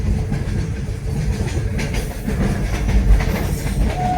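A Konkan Railway train runs through forested country, heard from on board as a loud continuous rumble with a rhythmic clickety-clack of the wheels and a faint squeal.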